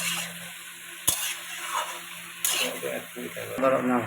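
Vegetables are tossed into a hot pan for a vegetarian labra curry, giving sharp clatters and then a soft sizzle and stirring while someone talks over the cooking.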